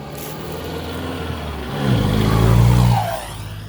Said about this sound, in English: let y'all hear the turbo cough, the wastegate